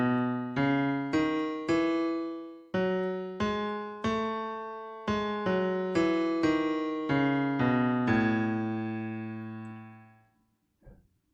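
A Steinway piano plays an A Lydian chord progression, each chord struck and left to ring in turn across a dozen or so changes. A last chord fades to silence, followed by a small knock.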